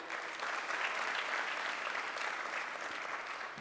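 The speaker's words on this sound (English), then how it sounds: "we must do one more round of applause for Mr." A continuous round of applause from an audience at a business talk in Dhule, sustained and fairly even for several seconds, with many hands clapping at once and no speech over it.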